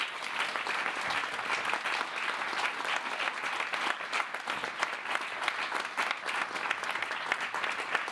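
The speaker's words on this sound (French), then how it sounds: "je vous demande de faire un triomphe d'applaudissements à Monsieur Thierry Leclerc" A theatre audience claps for a performer in a dense, sustained round of applause. The clapping stays thick and even from start to finish, with a faint murmur of the crowd underneath.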